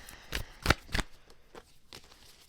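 A deck of oracle cards is shuffled and a card pulled, giving a few soft, close papery flicks and riffles in an otherwise quiet room.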